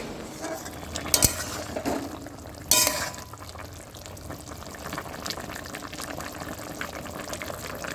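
Drumstick (moringa), potato, fried brinjal and bori lentil dumpling curry simmers in a pan, giving a soft, steady bubbling with a couple of brief utensil clinks and no talking.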